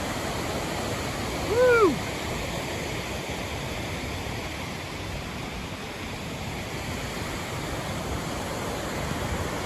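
Rushing mountain water on the John Muir Trail near Palisade Lakes and Muir Pass, a steady, loud roar of flowing snowmelt filling the air, with a brief whoop from a hiker early on.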